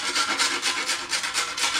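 Rhythmic rasping strokes of a nutmeg being grated on a fine grater, a dry scratchy sound repeating about every quarter second, close and fairly loud.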